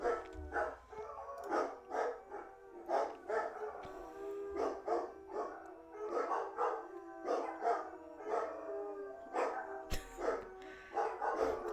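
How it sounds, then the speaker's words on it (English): Several dogs bark and howl in repeated bursts, fairly clear and moderately close, with drawn-out howls mixed among sharp barks and no talking. "The dogs are howling."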